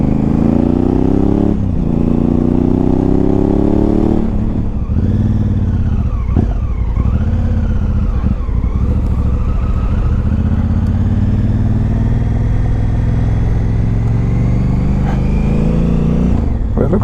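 A Honda Africa Twin CRF1000L motorcycle on the road, its engine a steady loud drone with rising and falling revs and shifting pitch, running continuously and close throughout with wind noise.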